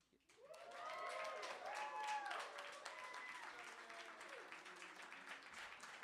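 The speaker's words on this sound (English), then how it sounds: "Keep that applause going for Rudy J, everyone." A crowd at a Canadian individual poetry slam bout claps steadily and fairly faintly, with whoops and cheers rising above the applause for several seconds.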